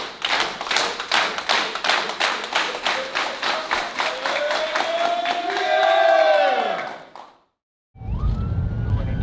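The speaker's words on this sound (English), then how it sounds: "Clap it up if you're still here." Crowd at a community rally in Liberty City clapping in unison, a steady rhythmic beat of claps with voices chanting over it, swelling into a rising shout before cutting to brief silence and a new sound.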